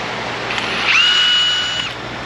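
A power tool spins a bolt off a Jeep Grand Cherokee with a 4.0 I6, making a close, steady whirring whine that rises briefly in pitch and then settles, with no talk.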